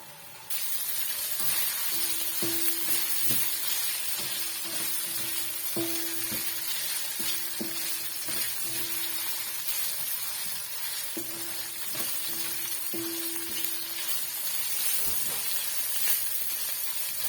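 Pechay tossed into a hot pan already sizzling with soy sauce, a steady loud hiss of frying with intermittent clinks and scraping of stirring, no voices over it.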